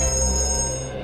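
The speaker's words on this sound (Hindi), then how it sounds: "एक मिनट, फोन आ रहा है।" A steady electronic ringing tone holds for about a second, fairly loud and constant, with no voices.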